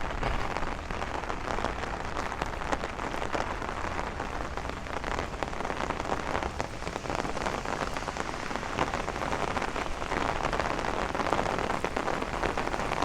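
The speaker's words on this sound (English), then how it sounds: "This is the heavy rain, guys." Heavy rain pours down during a thunderstorm on a Bay Ridge street in Brooklyn, a dense, loud and continuous patter of drops hitting pavement and surfaces throughout, with no voices.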